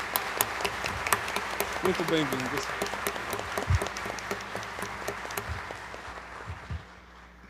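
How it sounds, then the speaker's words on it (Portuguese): Church congregation applause welcoming a priest during Sunday Mass, moderate clapping spread across the room under a brief spoken greeting, fading out at the end. "com uma calorosa salva de palmas"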